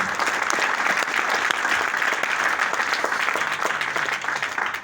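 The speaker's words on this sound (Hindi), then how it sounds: "मैं चाहूंगा जोरदार तालियां हो जाए गुरु जी लोगों" Strong, sustained audience applause at a training session honoring the teachers, loud dense clapping from a large crowd that holds steady throughout.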